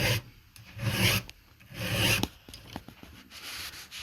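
A hand file rasps across the top plate and tip of a chainsaw chain tooth in rhythmic strokes, close and fairly loud, with short pauses and a few lighter taps between passes.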